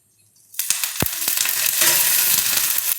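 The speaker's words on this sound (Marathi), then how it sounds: "थोडंसं तेल टाकून भाजून घ्यायच्यात आपल्याला मिरच्या." Chillies hit a pan with a little hot oil and burst into loud, continuous sizzling, with a couple of sharp clatters as they go in and are stirred.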